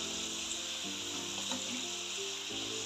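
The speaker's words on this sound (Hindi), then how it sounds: "ये देखिए बबल्स निकल रहे हैं इसमें, ये अंदर तक ये जो है फ्राई हो रहा है" Potato french fries deep-frying in hot oil on a high flame give a constant dense bubbling sizzle, close and even throughout, with no talking.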